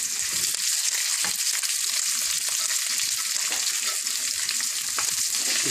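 Curry leaves, onion and green chili fry in hot oil with a dense, continuous sizzle that stays loud and even throughout, with no voices.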